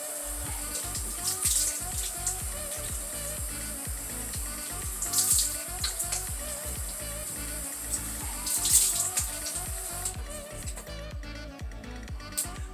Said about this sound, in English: I'm just going to wash my face with like lukewarm water.